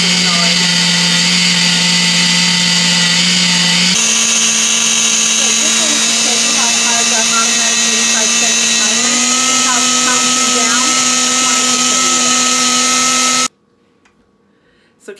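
A blender runs steadily on its puree setting, mixing keto berry-blend ice cream in a mason jar, a loud continuous motor whine with shifting pitch for about thirteen seconds before cutting off abruptly.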